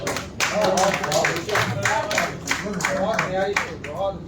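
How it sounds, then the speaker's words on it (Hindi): Audience clapping after a Hindustani-language poetry recitation at a 2023 poetry award event, steady close applause with dense hand claps running throughout, while a voice talks over it. "एक बार जोरदार तालियों से स्वागत करें"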